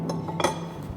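A spoon clinks against a glass holding balsamic vinegar, with a few light, close chinks in quick succession and a brief louder clink near the middle.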